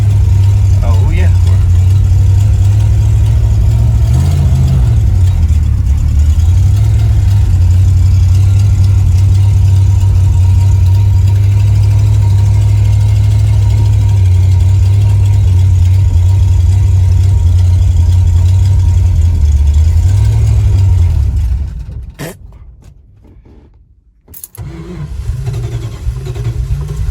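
An old neglected MOPAR car engine idles loud and close with a steady low rumble and a rough, uneven carburetor, running for about twenty seconds before cutting out, followed by brief quieter rustling.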